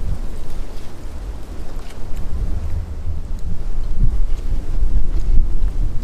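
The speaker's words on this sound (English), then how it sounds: "it's just too windy out here" Strong wind buffets the microphone outdoors on a hike, a steady, loud low rumble with gusty swells and no voices.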